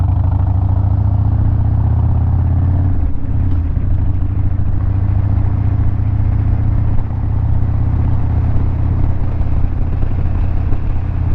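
A car engine treated with Seafoam idles steadily and loudly up close, a deep continuous rumble with a slight wobble partway through, and no voices over it.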